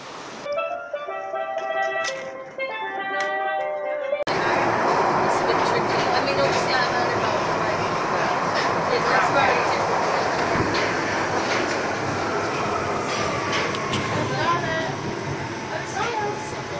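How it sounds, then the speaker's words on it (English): A train at a station on Blackfriars Bridge in London fills the scene with a loud, steady rail rumble and clatter after a few seconds of voices and tonal sounds at the start. "a train station actually on Blackfriars Bridge"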